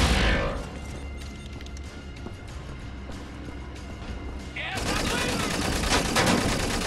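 Laser gun fire in Wolfenstein: The New Order, a dense continuous crackling burst over heavy game noise that swells louder near the end, with no clear gaps between shots.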